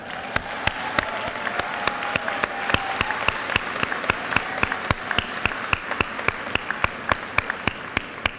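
Applause at a high school awards ceremony, a crowd clapping steadily in an auditorium with a few louder sharp claps standing out throughout.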